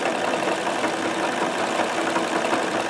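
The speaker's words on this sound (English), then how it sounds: "I'm just sewing the edges down so it feeds better" Steady, continuous whir of a left-needle sewing machine with a rotary hook, stitching down piping edges: an even mechanical hum with a fine rapid chatter and no pauses, close and fairly loud.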